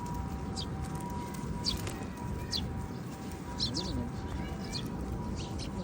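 Free-roaming pigeons and other birds call faintly in an open, quiet outdoor setting in Japan, with scattered chirps over a low steady background hum and a person talking in the foreground.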